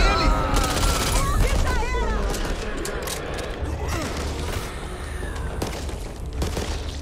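Rapid gunfire and weapon mechanisms from the co-op zombie shooter Back 4 Blood, dense continuous bursts over a busy game mix, with Portuguese voices talking throughout.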